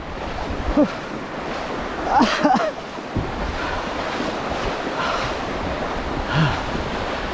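Strong waves break and surge along the shore at a surfcasting fishing spot, a constant roar mixed with heavy wind buffeting the microphone, with brief voices heard over it.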